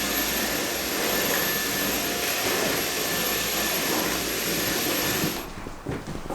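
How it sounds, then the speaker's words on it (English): Vacuum cleaner running over a living room floor, a loud continuous roaring whine that holds steady for several seconds before cutting off abruptly, leaving quieter room sounds. "I'm gonna vacuum this before we put the coffee table down."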